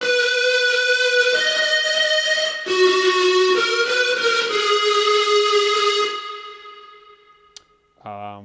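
Buzzy synthesizer tones, distorted with an extremely narrow bandwidth that hyper-boosts one frequency into a sharp, resonant peak, glide through a few pitch changes, then fade out, followed by a short tail of a different tone.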